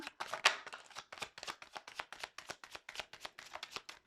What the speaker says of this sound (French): le temps que je bats les cartes